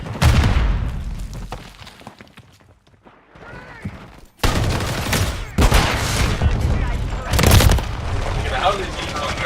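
Gunfire in the video game Helldivers 2: loud bursts of rapid shots and booms in dense clusters after a quieter stretch, close and harsh.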